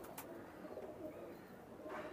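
Imported Bloodline Teddy pigeons cooing in a loft, faint low murmuring calls over a steady background hum, with no one speaking.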